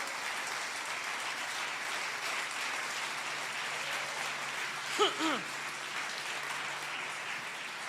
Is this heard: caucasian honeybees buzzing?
no